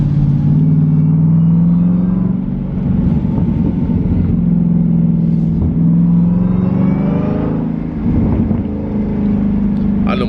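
A Jeep Trackhawk with a new performance tune idles with a deep, steady rumble, the engine note rising and dipping in a few light revs close by, with no one speaking.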